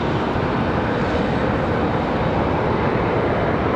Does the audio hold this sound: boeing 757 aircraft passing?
yes